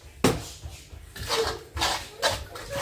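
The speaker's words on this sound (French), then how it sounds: "Désolée du bruit, je mélange." Oil being stirred into coconut ball batter in a bowl, with repeated scraping and clinking of a utensil against the bowl in rhythmic strokes, close and fairly loud, one sharp knock near the start.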